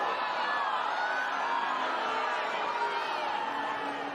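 Tennis crowd reacting to a Just Stop Oil protest on court after orange confetti and jigsaw pieces are scattered, a dense, steady roar of many voices cheering and shouting at once, loud and continuous throughout.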